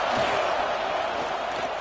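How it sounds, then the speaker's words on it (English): Football stadium crowd at an Oklahoma versus Missouri game, a broad, steady roar of cheering voices, loud and sustained for the whole moment without clear breaks. "this crowd trying to help keep them there"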